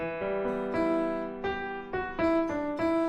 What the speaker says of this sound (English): I've got a Reason piano here, and that sounds like this.